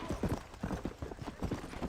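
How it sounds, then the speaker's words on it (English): Horse hooves gallop in Red Dead Redemption, a fast, steady clip-clop rhythm of repeated thuds, moderately close and fairly quiet, with no talking over it. "Alright, let's get this horse going."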